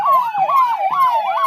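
Dial 112 police vehicle siren wailing loudly at a Republic Day parade in the Firozabad police lines, a steady rising and falling electronic tone cycling about every half second, close and continuous with no talk.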